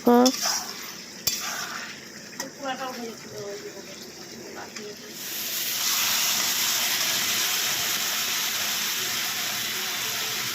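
Ridge gourd fries in a pan with salt and turmeric. A voice speaks over light utensil clatter at first, then a loud, even sizzle takes over and holds steady to the end.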